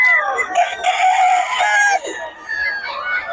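Roosters crow loudly and close in Bocaue, with long strained cock-a-doodle-doo calls running one after another and chickens clucking around them.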